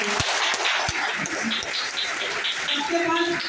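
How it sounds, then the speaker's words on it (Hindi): Audience at a business-plan meeting clapping loudly, a dense burst of applause mixed with a voice speaking over it near the end. "इनके लिए जोरदार तालियां उनको।"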